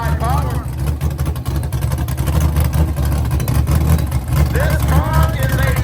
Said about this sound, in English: Here's the 5-body Mustang in the right-hand lane.